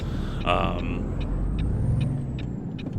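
A loud hiss of truck air brakes releasing in American Truck Simulator, followed by short puffs and a steady engine rumble underneath.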